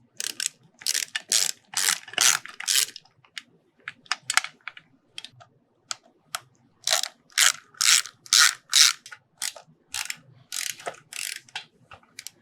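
A hand ratchet removes fasteners on a motorcycle, heard as close, rapid clicking bursts in repeated strokes with short pauses between.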